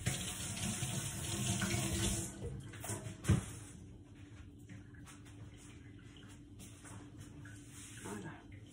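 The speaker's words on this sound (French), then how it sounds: "Je vais me rincer les mains." Tap water runs into a kitchen sink as hands are rinsed while cooking minced beef and cheddar buns, a steady close rush through the first two seconds that then thins to a faint trickle, with speech at times.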